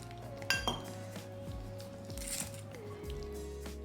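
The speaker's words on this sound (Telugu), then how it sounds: "ఇలా పిండిని ఉండలు లేకుండా కలిపేసుకోండి" Pakora batter for bitter gourd fritters is mixed by hand in a bowl: a close run of soft wet squishes and light clinks against the bowl at a steady pace, with a faint background hum.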